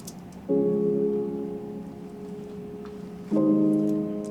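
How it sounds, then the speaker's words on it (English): Two soft piano chords, each struck once and left to ring and fade, with faint rain-like crackle in the background. "I also added another piano."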